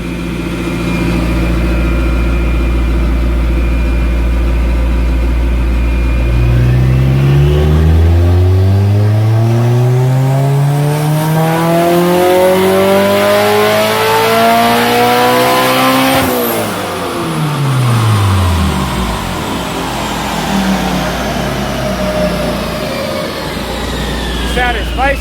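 A turbocharged 1992 Honda Civic Si hatch with a B18C1 engine revs on a dyno, climbing in a long, loud pull to the rev limiter, then falling back and settling into a rumbling idle, close and dominant.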